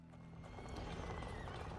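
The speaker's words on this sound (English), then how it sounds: "there's a horse I can hear" A horse in the video game A Plague Tale: Innocence, steady hoof clip-clops with a neigh, set against a continuous low rumbling game ambience at moderate volume.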